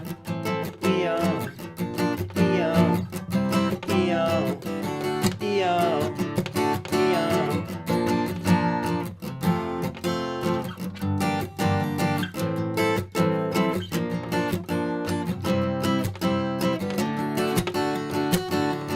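Guitar strumming the ending of a song, a steady, rhythmic chord pattern with sharp, evenly spaced strokes carrying through the whole passage, no talking.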